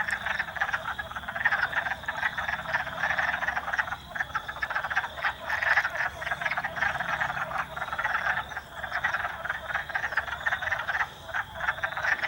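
Wood frogs croak continuously in a marsh in a thick, chattering chorus that swells and dips slightly over time, with no one speaking.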